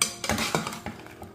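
Spoon stirring sugar syrup in a pan, soft scraping and clinking strokes close by, light and irregular, with no talk.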